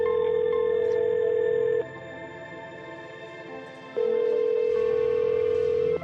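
A steady electronic telephone ring tone sounds in two long bursts separated by a pause, with a quieter hum in between and no one answering.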